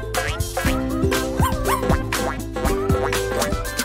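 A playful puppy gives repeated high yips and whimpering barks in quick irregular bursts, close and loud, with no talking.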